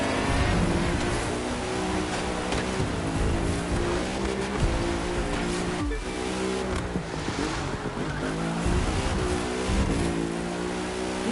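An Audi RS5 growls steadily in The Crew 2 during a snowy race, its engine a continuous, loud, harmonic drone that rises and falls slightly in pitch, with no voices over it.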